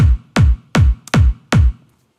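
An electronic kick drum layered with a transient click strikes five times in a steady rhythm, each hit pairing a heavy low boom with a sharper, brighter attack at the front.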